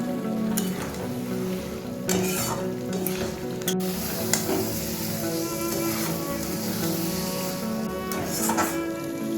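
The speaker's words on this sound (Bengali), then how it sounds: "এবার পটলটাও দিয়ে দিলাম সবটাকে একসাথে খুব ভালোভাবে মিশিয়ে নিচ্ছি" Fried potatoes and pointed gourd being stirred into a spiced curry in a pan, giving steady loud sizzling with repeated scraping stir strokes throughout.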